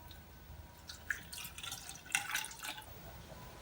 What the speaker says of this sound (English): as I poured it in here, it started running out of the engine block